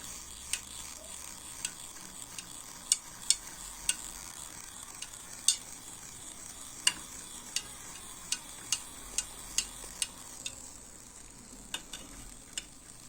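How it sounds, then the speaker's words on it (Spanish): Heated water is stirred in a container, a quiet run of sharp regular clinks and taps as the utensil knocks the sides, roughly one per second, over a soft steady hiss; nobody talks. "Continuamos calentando el agua. Se volverá a revolver."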